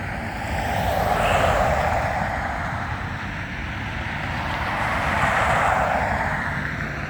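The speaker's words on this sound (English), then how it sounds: "Twin engine jet." A twin-engine jet roars steadily from a distance, a broad, rushing drone that swells and recedes slightly as it passes overhead.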